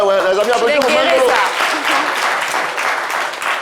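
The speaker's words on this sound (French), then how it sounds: "Les amis, applaudissez pour Bangolo." Studio applause on a radio show greets a caller, a short burst of clapping rising right after a host's voice and carrying on steadily to the end.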